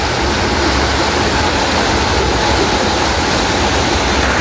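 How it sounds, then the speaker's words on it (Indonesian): A waterfall in the Geger hills valley of Madura roars in a steady, dense, full-bodied rush of falling water, close and unbroken, with no voices. "Air terjunnya sangat indah sekali."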